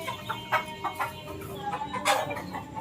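A Boston Roundhead gamecock clucks in a series of short, irregular calls over a steady background hum, fairly close and moderately loud.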